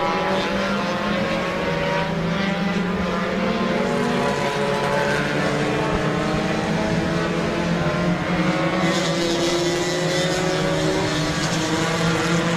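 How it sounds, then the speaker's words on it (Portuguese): Race cars lap a circuit in a Força Livre heat, their engines droning steadily and loudly as several machines pass and overlap, with pitch rising and falling across the whole stretch. "o gol do Rafa tem muito mais motor"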